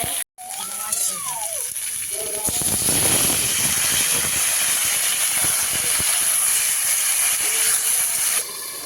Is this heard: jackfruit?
yes